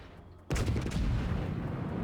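Heavy main-battery salvo from the HMS Hood battleship in World of Warships, a sudden loud blast after near silence that rolls on as a sustained booming rumble.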